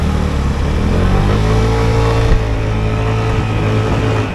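A 2023 Vespa GTS 300 Super Sport scooter rides through Bucharest city traffic, its engine droning loud and steady with a low hum throughout and a brief bump midway.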